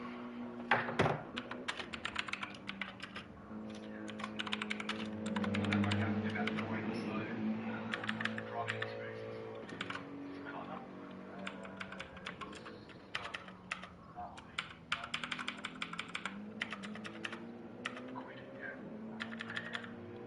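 Rapid typing on a computer keyboard with some faulty keys, a busy run of close, crisp key clicks and thunks in uneven bursts, with a voice and background sound underneath.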